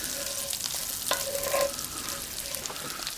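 Sausage frying in a cast iron pan as flour goes in, a steady close sizzle with a few scrapes and stirring clinks, a brief louder burst near the middle, no talking.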